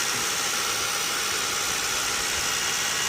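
A homemade outboard boat motor runs steadily at throttle, a loud, close, continuous electric whine with a constant hum and no break, with no voices.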